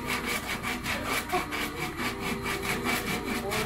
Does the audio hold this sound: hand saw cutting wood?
yes